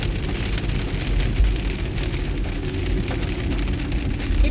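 Heavy rainstorm drumming on a car while driving to get groceries, a loud, continuous hiss and patter of rain on the roof and windshield over the low rumble of the moving vehicle, with no talking.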